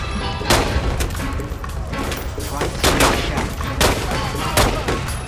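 Gunfire in The Godfather 2 crime game, repeated sharp shots cracking in irregular bursts at close range, loud and dense, with several heavier blasts spaced across the stretch.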